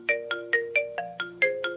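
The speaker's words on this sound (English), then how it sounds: "My phone is ringing." A phone ringtone plays a bright, tonal melody of eight evenly spaced notes, loud and close, with no one speaking over it.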